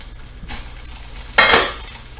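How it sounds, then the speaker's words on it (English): Chimichurri hits a hot pan of chicken casserole and is stirred in: a brief soft scrape, then a loud sizzling hiss with utensil clinks, close and alone without talk. "put about a tablespoon of chimichurri in there"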